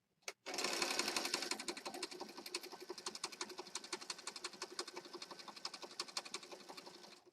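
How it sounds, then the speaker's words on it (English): A sewing machine stitches a fabric flap around a small rectangle of cloth, starting with a quick burst and then settling into a fast, even run of mechanical clatter, close and alone. "I'm going to stitch on this little flap around this rectangle of fabric."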